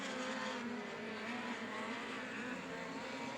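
Midget race cars race around the dirt oval at Humboldt Speedway, a steady engine drone with faint tire noise, distant and continuous.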